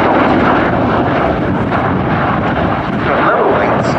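USAF CV-22B Osprey tiltrotor aircraft flying a short display at the RIAT 2022 air show, its engines and rotors a loud, continuous, broadband roar with no break for the whole span.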